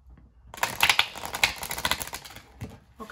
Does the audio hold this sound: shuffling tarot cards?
yes